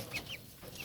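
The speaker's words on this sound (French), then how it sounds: "j'ai 2 poulettes aussi, coucou des Flandres, avec un petit coq connu" Farmyard chickens, Coucou des Flandres hens among them alongside roosters, give a few short close clucks in quick succession outdoors.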